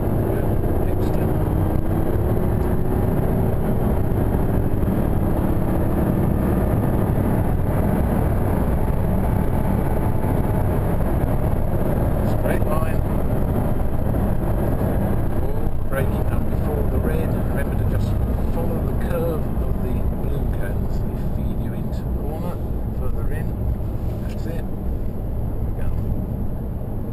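An Audi R8 engine holds a loud, continuous roar as it accelerates through a corner at the Thruxton race track, recorded from inside the car at a steady pitch.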